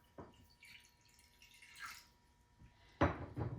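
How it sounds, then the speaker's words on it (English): Water trickling and splashing into a bowl or pie tin to about an inch deep, quiet intermittent pouring and drips ending in a louder splash near the end. "fill your bowl or pie tin with about an inch of water"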